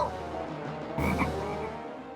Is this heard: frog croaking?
yes